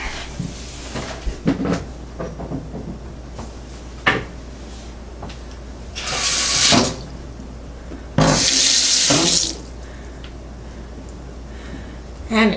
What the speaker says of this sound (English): I'll turn on the water